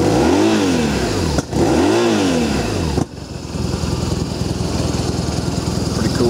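A BMW R1200RT motorcycle with ABS and 20,905 miles fires up and runs, starting with two rising revs before settling into a steady, loud, close idle with no talk over it.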